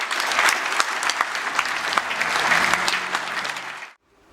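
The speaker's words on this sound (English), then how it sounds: "give another warm round of applause as we welcome Lord Digby Jones." Audience at the Stone Awards 2014 breaking into a warm round of applause to welcome Lord Digby Jones, dense and fairly loud clapping that swells, holds for several seconds, then stops abruptly into near silence.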